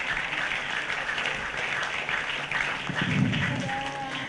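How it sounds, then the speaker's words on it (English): Applause from a conference audience for panelists after a day of sessions, moderately quiet dense clapping with some voices mixed in. "I wish you guys can give a round of applause to all the panelists since morning until the evening"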